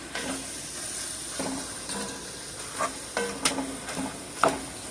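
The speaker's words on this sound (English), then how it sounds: "break that down using my masher" A hand masher works through a pot of hearty three-bean chili, giving soft, irregular squelching thumps and scraping knocks against the pot over a steady low sizzle of simmering.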